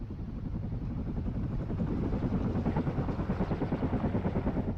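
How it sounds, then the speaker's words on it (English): Helicopter rotors from the WARNO real-time strategy game churn in a steady, loud rhythmic thumping that holds throughout, with no talk over it. "And more choppers coming up?"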